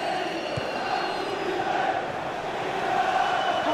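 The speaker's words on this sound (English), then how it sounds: "the crowd are loving the drama that we want." A steady stadium crowd at Anfield in FIFA 18 keeps up a moderate, sustained hum of chanting and cheering at a distance.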